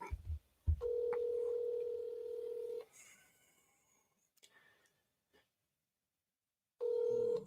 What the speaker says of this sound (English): A little bit late for me to call Don, and he may have had a beer too, so if that's the case, I'm going to hang the phone up